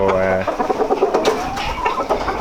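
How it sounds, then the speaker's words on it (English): A Blackjack F1 rooster clucking and calling close by in a farmyard, with harsh, jerky bursts and a person speaking over part of it. "This is one of my blackjack F1 rooster."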